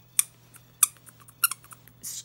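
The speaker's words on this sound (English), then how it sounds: "Squeaks, and Squeaknik wears the glasses" A squeaking LOL Surprise Squeaknik toy pet from the Retro Club series gives three sharp, bright squeaks spaced apart, close and fairly quiet, followed by a short rustle against a steady low hum.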